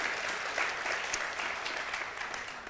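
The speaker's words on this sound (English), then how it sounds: "Yes, another round of applause, please." An audience at a community college lecture applauds, a continuous even wash of many hands clapping, heard from a little distance at moderate level without pause.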